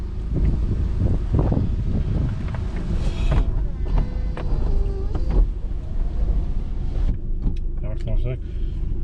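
Strong gusty wind buffets the microphone outdoors beside a wrecked Audi TT Black Edition, a continuous rough roar with scattered knocks and squeaks, and a person talks over it.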